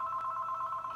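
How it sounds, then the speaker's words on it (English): A mobile phone rings indoors with a steady electronic ringtone tone, continuous and moderately loud across the whole second, with no talking. "why is my phone ringing right now?"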